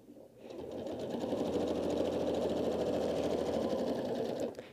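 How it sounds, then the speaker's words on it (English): A sewing machine quilting through fabric with a walking foot runs steadily for about four seconds in a fast, even whir, close and alone, starting and stopping cleanly. "I can just use the edge of my walking foot to go ahead and handle the quilting"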